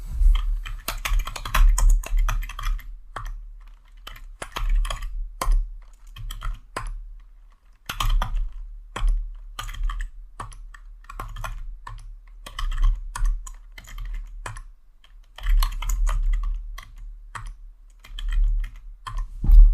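A computer keyboard clatters in quick, steady bursts of keystrokes, close and clear, broken by short pauses while words are typed in.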